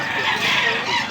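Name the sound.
roosters crowing and clucking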